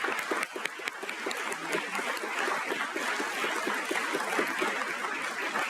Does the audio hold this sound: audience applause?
yes